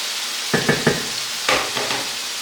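Food cooks in a pan as liquid boils off, with bursts of sizzling stirring in two short clusters over a quiet background and no voices.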